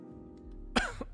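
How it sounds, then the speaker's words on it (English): A single sharp cough from a person, followed by a softer second hack, close to the microphone against a quiet low background hum. "the more I talk, the more I cough"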